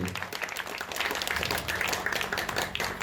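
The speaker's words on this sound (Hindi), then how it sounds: "जोरदार तालियां होनी चाहिए" An audience applauds at an e-rickshaw launch event, with dense, continuous clapping that stays fairly loud throughout the short stretch and has no talk over it.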